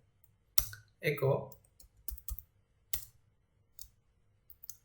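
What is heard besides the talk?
typing PHP code on a computer keyboard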